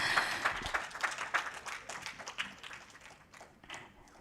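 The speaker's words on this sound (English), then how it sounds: "big round of applause." Scattered applause from an audience at a certificate felicitation ceremony, many hands clapping fairly softly and unevenly, fading gradually toward the end.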